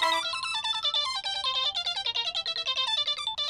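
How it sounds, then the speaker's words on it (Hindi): A bright electronic ringtone melody plays in a repeating pattern of quick tones, loud and close, with no voices. "चाचा का फिर से फोन आ रहा है"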